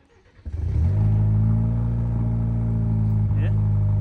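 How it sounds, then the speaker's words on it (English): 2023 Chevy Colorado with a MagnaFlow Overland Series exhaust cold-starting: a quick crank, then the engine catches and settles into a loud, steady, deep idle nearby, with a brief blip near the end. "I'll give you guys a little MagnaFlow Overland Series exhaust cold start"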